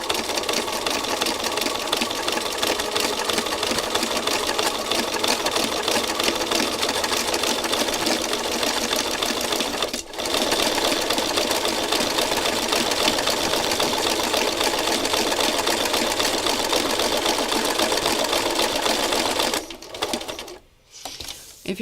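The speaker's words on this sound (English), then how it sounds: "I'm going to stitch the layers together on the cutter quilt piece" A sewing machine stitches quilt layers together in one long, continuous, steady whir up close, only briefly faltering before a pause near the end.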